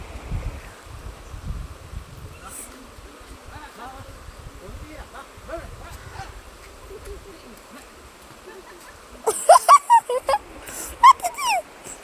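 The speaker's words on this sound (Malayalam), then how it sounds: "ഇതുണ്ട്, ഒരു പട്ടി." After a quiet outdoor stretch with faint rustling, a dog barks several times in quick succession, loud and close.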